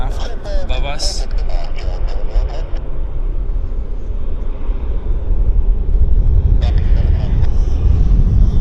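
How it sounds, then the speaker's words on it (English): A small King Air aircraft passes over Vancouver International Airport with a steady, loud low engine drone that swells toward the end, while people talk over it. "Here comes a small aircraft above us."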